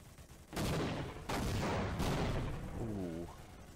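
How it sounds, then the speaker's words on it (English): Rockets fire at alien tripods in Garry's Mod, heavy booming blasts arriving in quick succession with a dense rumbling roar that continues after them, and a voice briefly heard near the end. "Rockets going in."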